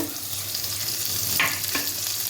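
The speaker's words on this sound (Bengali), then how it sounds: "এটাকে আমি নাড়াচাড়া করে হালকা করে ভেজে নেব" Vegetables and beans stir-fried in a pan for Bengali-style chicken chowmein: a steady, close sizzle with a couple of sharp spatula scrapes against the pan.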